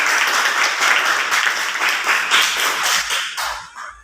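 Students in a classroom applaud together, a dense burst of clapping that holds for about three seconds and then thins out and fades.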